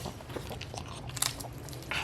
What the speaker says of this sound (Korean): 씹어먹는 게 진짜 이뻐